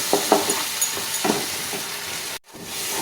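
Spice paste with cashews and a splash of water sautéing in a pan, a dense steady sizzle with a few scraping stirs, close, ending in a brief cut of silence before the sizzle resumes.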